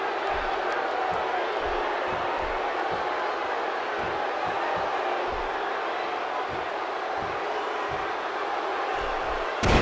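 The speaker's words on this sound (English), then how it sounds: "by the sound of this crowd, I think they're getting what they wanted" A large wrestling arena crowd at a Royal Rumble event in Philadelphia roars and cheers continuously, with dull thuds from the ring scattered through the dense, loud wash of noise.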